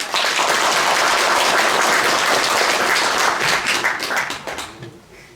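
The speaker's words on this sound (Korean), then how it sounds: "토론회를 힘찬 박수로 함께 시작하겠습니다" Vigorous applause from an audience opening a public debate on the energy transition in Yeonggwang, dense and steady for about four seconds before fading out.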